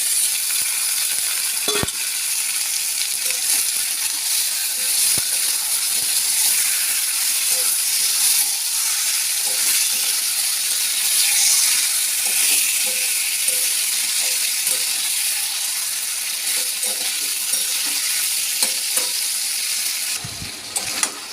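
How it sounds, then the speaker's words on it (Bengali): Chicken being sautéed in a kadai after onions and tomatoes, giving a steady, loud sizzle and hiss throughout with occasional stirring clinks, no talk over it. "এই যে এখন চিকেনটা কষানো হচ্ছে"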